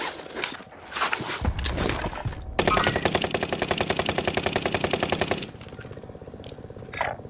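Rapid automatic gunfire rattles in a first-person shooter video game, with a sustained burst of evenly spaced shots following scattered single shots and impacts, then fading to quieter ambience.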